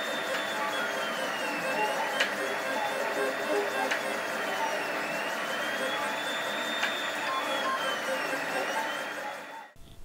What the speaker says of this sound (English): I'm going to 3D print a NinjaFlex drive belt that's exactly the right size